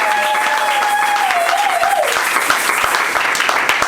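Church congregation applauding during a thanksgiving service and temple dedication, a steady dense wash of clapping throughout with a held tone fading out early on.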